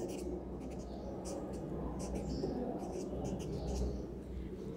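Writing answers for a Class Four English model test lesson, a close steady scratch of strokes on a board or paper against low room hum, with no talking.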